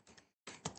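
Short bursts of keystrokes on a computer keyboard while entering a router console configuration, two clustered clicking runs separated by a brief pause, close and quiet.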